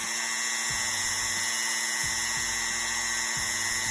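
A rotary tool sands down the ankle joint part of a Marvel Legends action figure, a loud, close, high-pitched whine that runs continuously while the grinding pressure shifts in several pulses.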